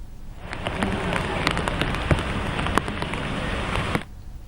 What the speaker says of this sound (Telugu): కోనసీమ జిల్లా వ్యాప్తంగా కురుస్తున్న కుండపోత వర్షానికి జనజీవనం అస్తవ్యస్తమైంది